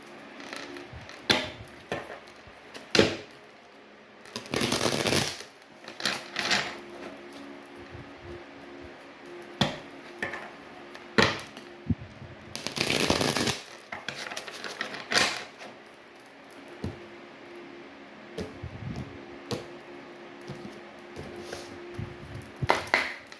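Tarot cards are shuffled and pulled during a Cancer tarot reading: scattered dry flicks and riffling bursts of card stock, with two longer shuffles among soft taps, close up and without talking.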